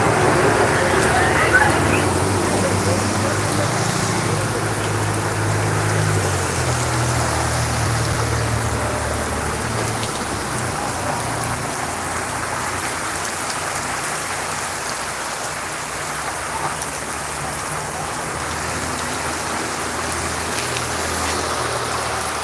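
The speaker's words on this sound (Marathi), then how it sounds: "पावसानं पुन्हा एकदा धुमाकूळ घातलेला आहे" Sudden heavy rain pours down steadily, a dense, loud hiss of drops hitting surfaces that holds evenly throughout, with faint road traffic and a brief voice early on.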